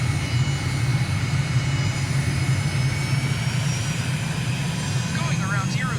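Jet airliner engines roar steadily and loudly during a go-around in Microsoft Flight Simulator, with a continuous broadband whine and hum, while people talk over the engine noise.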